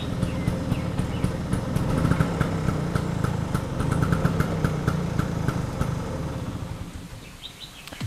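A restored Vespa scooter engine idles nearby, a steady low putter with rapid regular ticking pulses, running evenly for several seconds before the level drops near the end.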